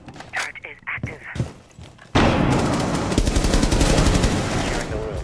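Automated turret fire in a video game: a sustained, rapid and loud stream of shots that starts abruptly after a few seconds of short, scattered sounds and a brief voice.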